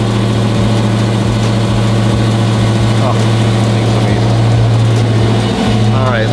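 A Dodge Demon 170 V8 settles into a steady, loud rumbling idle after a cold start, with a few faint blips and some background voice-like sounds mixed in.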